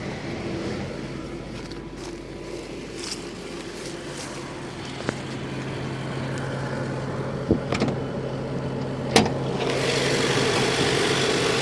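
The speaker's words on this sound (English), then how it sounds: "This is the 4-liter V8 that also powers the Lexus LS400" A 1993 Lexus SC400's 4-liter V8 idles steadily with a smooth low hum, a few faint clicks and knocks over it, and a slight rise in engine noise toward the end.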